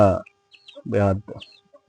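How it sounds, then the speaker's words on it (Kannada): A few free-range native country chickens and chicks cluck close by while foraging on a poultry farm, in short separate bursts, with soft chirps in between and otherwise quiet surroundings. "ನಮ್ಮ ಕೋಳಿಗಳೆಲ್ಲ ಎಲ್ಲ ಕಡೆ ಯಾವ ರೀತಿ ಮೇಯ್ತಿದೆ ಅಂತ"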